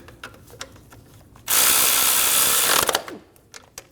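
A power tool drives a nut down onto the alternator terminal stud of a 2012-2022 Volkswagen Passat 2.5L five-cylinder, giving one loud, steady whirring burst of about a second and a half between quiet ratcheting clicks.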